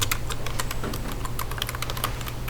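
Computer keyboard keys clicking in quick, uneven taps during 3D modeling software work, close and moderately loud over a steady low background hum, without any voices.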